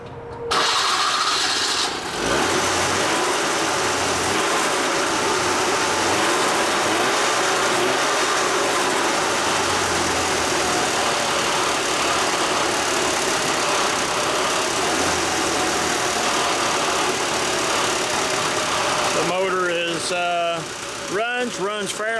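A small, cold Vespa 400 engine starts and runs steadily at a loud, even idle, with a voice speaking under the noise and a rev change near the end.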